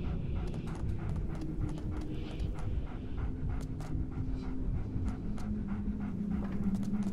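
Dog panting in the Game of Thrones RPG video game, a quick continuous rhythm of breathy pants over a low, busy game background, close and steady throughout.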